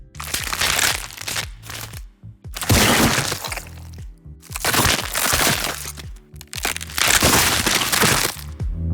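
Gory bursts of crunching, cracking bone and tearing flesh come in four dense, loud waves separated by brief pauses.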